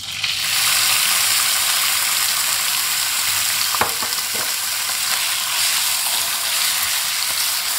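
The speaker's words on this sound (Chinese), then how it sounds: "油热后放入肉丝" Shredded pork stir-fried in hot oil in a wok: a loud, steady sizzle throughout, with a few sharp spatula clicks and scrapes near the middle and no talking.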